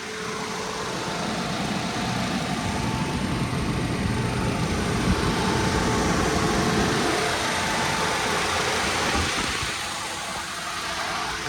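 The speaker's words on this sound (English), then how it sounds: "I'm glad I take the time to do that one so you can hear and see the motor" With the hood open, a 2015 Audi A5 Cabriolet's engine runs at a steady idle, a continuous close rumble and hum that holds even throughout.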